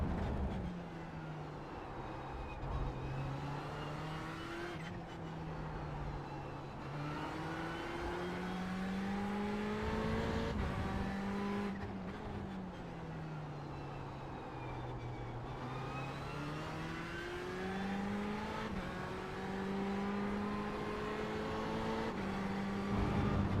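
A Ferrari 488 GTE racing at Interlagos in a racing video game, its engine wailing steadily and shifting pitch through gear changes, with other race cars droning past at close range.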